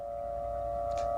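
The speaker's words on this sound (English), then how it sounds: "you can probably hear the sirens over here as well in the background" Chemical alert sirens sound at a Marine bunker during the Iraq War, heard as a steady, unbroken electronic tone held over a low rumbling background, fairly loud and distant-sounding, without speech.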